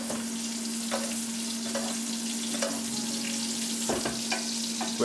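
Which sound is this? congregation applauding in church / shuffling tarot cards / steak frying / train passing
steak frying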